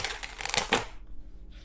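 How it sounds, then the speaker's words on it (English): Tarot cards shuffled by hand in quick, crisp riffling bursts that stop abruptly, followed by near silence. "This deck does not want to like shuffle easily today for some reason."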